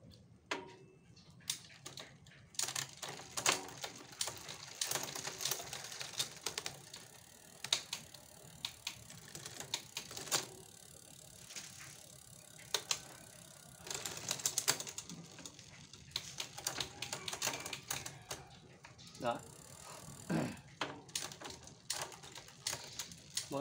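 Gear ratchets on a GIOS aluminium touring bicycle click in quick irregular bursts as it shifts between chainrings, close and crisp, with pauses between runs.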